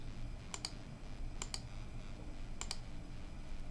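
Computer mouse clicks in patient browser software come in three quick pairs, each double click crisp, close and faint over a quiet steady background hum.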